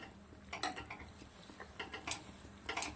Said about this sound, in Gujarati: સરસ મિક્સ કરી દઈશું.